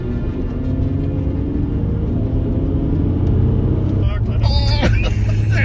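A Land Rover Discovery 4 drives to warm its tyres, giving a loud, steady engine and road rumble that runs throughout, with a brief higher whine rising near the end.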